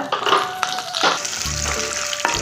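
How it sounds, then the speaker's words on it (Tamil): Chana dal and urad dal frying in hot oil for radish chutney, a close sizzle with a few sharp clinks and stirring scrapes, no voices. "இந்த கடலப்பருப்பும் உளுத்தம் பருப்பும் போட்டு நல்லா அதை சவக்கிற மாதிரி வறுத்துக்கலாங்க"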